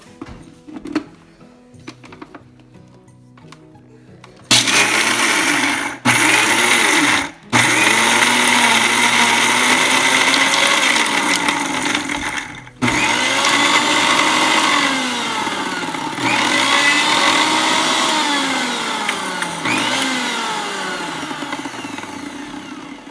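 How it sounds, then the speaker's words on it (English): A mixie grinder blitzes peanuts and salt for Telangana peanut chutney, a loud, steady motor whine with repeated pulses and brief stops, nearby and with no talking. "I'm adding approximately 1 teaspoon of salt. And Close the mixie jar."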